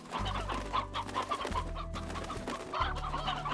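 Chickens in a deluxe coop in the Slime Rancher video game cluck and squawk continuously, with busy layered bird calls over a low droning hum of background game music.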